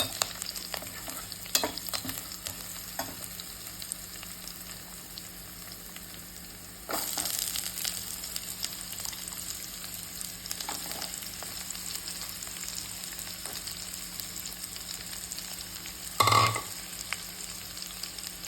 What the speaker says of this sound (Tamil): பூண்டு கொஞ்சம் வதங்கவும் நம்ம இந்த கருவாடை சேர்த்துக்கலாம்